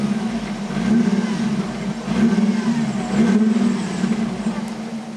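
A Fiat Bravo HGT with its 2.0 20V five-cylinder engine revs, a deep, throbbing engine note that swells and eases in several rising and falling waves, steady and fairly loud throughout.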